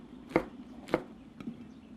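Two sharp knife chops, then a lighter third, as chili pepper rings are cut on a board while a braised chicken and soft-shell turtle dish simmers; close and crisp with quiet gaps between strokes.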